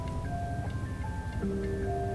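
Tinny jingle of an ice cream truck's chiming tune in the Roblox game, played over a rumbling background, brief and steady.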